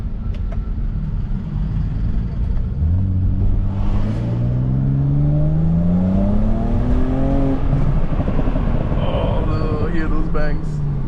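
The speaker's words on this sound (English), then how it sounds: "let's hear some exhaust notes" A tuned 2007 BMW 335i E92 accelerates hard, its exhaust note climbing steadily in pitch through the revs over a constant road rumble, loud and close, with no one speaking over it.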